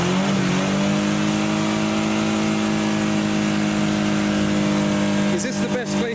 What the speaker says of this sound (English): There's a slight exhaust blow there